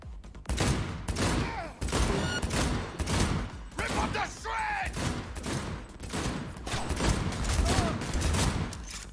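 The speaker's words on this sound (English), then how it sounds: "I was trying to shoot the other guy." Rapid gunfire from the video game Cyberpunk 2077 dominates throughout, loud bursts of shots one after another with a voice briefly talking in between.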